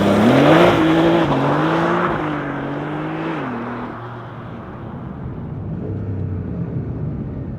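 Porsche 911 GTS T-Hybrid launching hard under launch control, a loud engine roar rising in pitch through the gears before easing off as it pulls away, with no talking.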